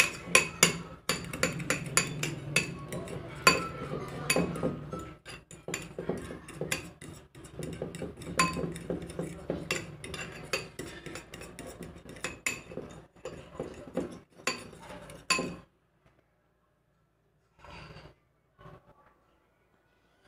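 Spoon clinking and scraping against a bowl while chicken pieces are mixed with tikka masala, red chilli powder and salt for chicken fingers; steady rapid clatter for about fifteen seconds, then a sudden stop with a couple of faint knocks.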